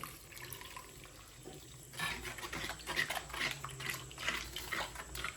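Water poured into a pan of kilimeen fish curry to make the gravy, a soft trickle at first that swells into a fuller splashing pour halfway through, close by and without talk.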